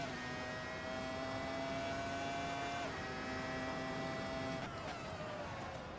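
A 1999 Formula 1 car engine in the racing game Assetto Corsa drones steadily at high pitch, then shifts down abruptly twice as the car brakes, heard alone without talk.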